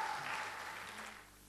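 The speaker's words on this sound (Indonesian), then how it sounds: "Berikan tepuk tangan bagi Allah kita." Church congregation applauding together, a dense broadband wash of clapping that stays steady and then gradually thins toward the end, heard alone without voices.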